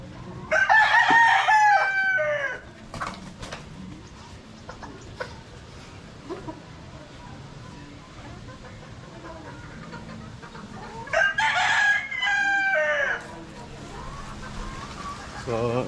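A rooster crows twice at a small poultry yard, once near the start and again near the end, loud and close, with faint clucking and background noise in between.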